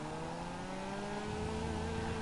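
Engine of the Weeny Issi Classic in GTA 5 holds a revving drone that swells and climbs slightly near the end, close and continuous, with no talking over it.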